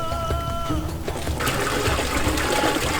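Twenty litres of water poured into a container while mixing a liquid organic plant fertiliser, a steady broadband gush that swells and brightens midway, filling the whole clip with no voices.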